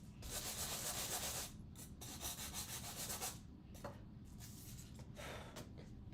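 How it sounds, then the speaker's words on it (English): A sanding block rubbed over cardstock gives steady, close, gritty scrubbing strokes, a long continuous pass and then shorter back-and-forth bursts with brief pauses between them, with no talk. "I'm going to grab that sanding block one more time, sand this up just a little bit"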